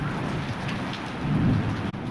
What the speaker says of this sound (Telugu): ఇదిగోండి వర్షం పడిపోతూ ఉంది పెద్దవానే.